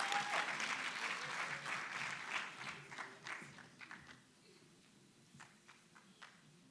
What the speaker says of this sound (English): Let's give her a good round of applause as well.